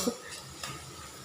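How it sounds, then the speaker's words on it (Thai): Garlic and shallots stir-fried in a pan, with a soft steady sizzle and a couple of light spatula scrapes, close and brief with no talking. "พัดกระเทียมกับหอมแดงนี่หอมๆเหลืองๆ"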